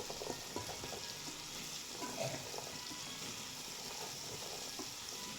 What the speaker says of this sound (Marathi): आता याच्यामध्ये ना ही फ्लावर घालून घेते मी